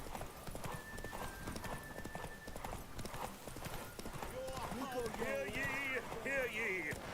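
Roach galloping in The Witcher 3's Erasmus Vegelbud Memorial Derby at Novigrad, hooves drumming steadily as a horse whinnies and voices talk, and the sound grows busier toward the end.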